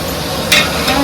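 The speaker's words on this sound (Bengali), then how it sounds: "পেঁয়াজ বেরেস্তা দিয়ে দিচ্ছি।" Fried onions being added and stirred into a pot of biryani, a soft scraping stir over a faint sizzle with a brief brighter clatter midway, close and steady.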